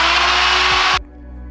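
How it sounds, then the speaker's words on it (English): A power drill spins a wire brush against a six-speed transmission case with a harsh, loud scrubbing whir, then abruptly cuts off and winds down. "attach the wire brush to the drill, and then we're gonna go over the whole entire surface of the transmission"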